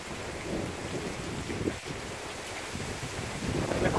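Heavy rain and wind roar steadily through a lightning storm, with a sharp crackling burst of thunder near the middle amid the dense downpour; no voices.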